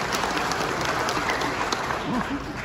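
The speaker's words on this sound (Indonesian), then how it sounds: "Tepuk tangan untuk Ketua Kornas." Applause for the chairman of a national committee at an afternoon gathering: a steady wash of clapping from a seated crowd, continuous and fairly loud throughout, with scattered voices mixed in.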